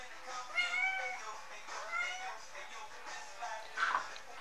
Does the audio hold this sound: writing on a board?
no